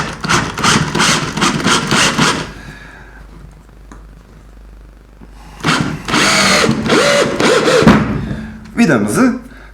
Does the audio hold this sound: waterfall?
no